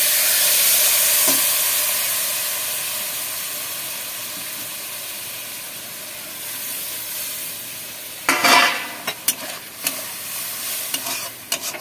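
A pan of paneer dalna curry fries with a steady loud sizzle and hiss, then water is poured in, setting off a sharp burst of crackling and bubbling spurts.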